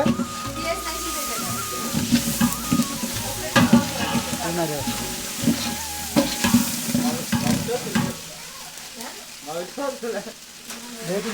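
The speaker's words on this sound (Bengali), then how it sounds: "এটা রসুন লাড়া দিবে" Garlic sizzles and crackles steadily in a hot pan while a spoon stirs and scrapes through it, part of cooking beef for guests; people talk over the continuous frying noise throughout.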